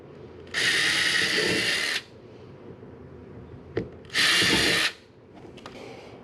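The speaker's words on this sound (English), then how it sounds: "again, using the 1/8 drill" A power drill with a 1/8-inch bit whirs loudly into a kayak in two bursts of about a second and a half each, with a couple of brief clicks and handling noises between them.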